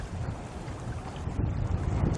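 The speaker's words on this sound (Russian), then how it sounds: "Ветер очень сильный." Strong wind on an ice-fishing spot in March buffets the microphone with continuous low roaring gusts, rising slightly in force partway through.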